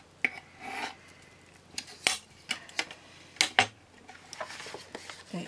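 Scissors cutting scrapbooking paper along a drawn line, heard as a series of sharp, close snips and rustles at an irregular pace, with quiet gaps between the cuts.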